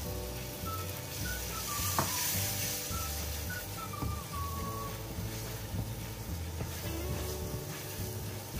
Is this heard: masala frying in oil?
yes